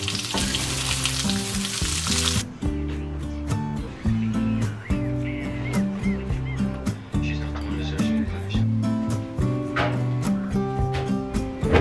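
Food fries in hot oil in a pan with a loud, close sizzle at first, then continues as sputtering crackles and utensil clatter while someone talks over it.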